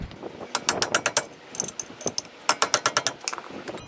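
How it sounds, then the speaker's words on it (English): A ratchet wrench tightens the brake caliper bolts on a 2011 Toyota Sienna, rapid close clicking in quick bursts with short pauses between pulls. "Tightening up the caliper."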